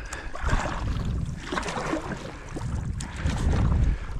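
A rubber boat moves over cold winter water, with steady low wind noise and soft sloshing and splashing around the hull throughout, close to the microphone.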